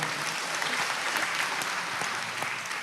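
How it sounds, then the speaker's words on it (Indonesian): An audience claps steadily at a local government gathering in Blitar, a dense, continuous round of applause heard up close for a few seconds. "Tepuk tangan untuk beliaunya."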